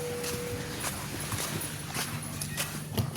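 Horse hooves clip-clop in a steady walking rhythm against a busy outdoor background, with faint voices now and then.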